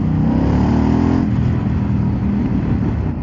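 A 2022 Harley-Davidson Pan America motorcycle engine pulls and revs while riding, a loud, close rumble that rises briefly and then holds steady with wind noise.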